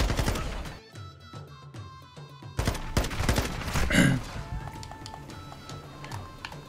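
Gunfire in the video game Call of Duty Modern Warfare 2 rings out as several sharp shots and short bursts, mixed with footsteps and game noise, moderately loud and close.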